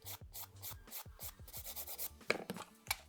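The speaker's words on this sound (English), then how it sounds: "So I'm just going to gently blend that. Got a 150 grit file." A 150 grit nail file rubs back and forth across a fingernail in quick, close strokes, a soft rhythmic scratching heard alone.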